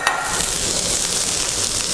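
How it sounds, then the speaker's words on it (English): Mushrooms sizzling in a pan on a NEFF induction hob, a close, steady crackling fry with a brief stir at the start, no voices. "mushrooms sizzle away nicely."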